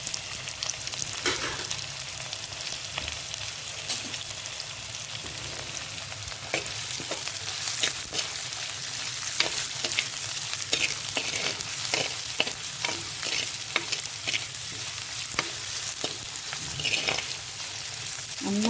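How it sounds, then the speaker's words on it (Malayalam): Shallots, garlic and curry leaves sauté in a clay pot for papaya thoran, giving a continuous close sizzle broken by frequent scraping stirs, with no talking. "വേപ്പില ഇട്ടു നമുക്ക് നന്നായിട്ട് ഇളക്കി കൊടുക്കാം കേട്ടോ"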